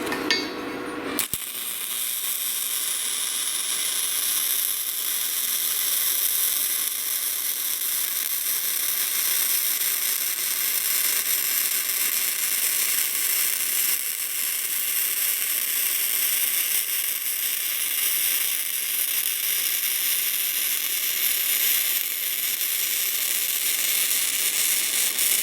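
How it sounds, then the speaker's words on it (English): A cheap flux core welder runs a stringer bead on steel, giving a steady, loud crackling hiss that holds without a break for about twenty-five seconds, with no voices over it. "I'm gonna just weld a nice little stringer right along there."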